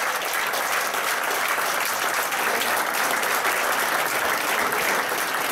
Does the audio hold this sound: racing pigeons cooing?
no